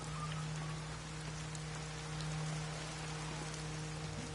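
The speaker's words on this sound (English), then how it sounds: "Now it's raining." Rain falls outdoors, a faint, steady hiss of drops with a low hum beneath, unbroken for the whole stretch.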